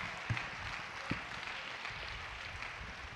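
An audience at a Hindi comedy poetry gathering claps in honour of a poet, a faint, distant wash of applause with a couple of sharper nearby claps.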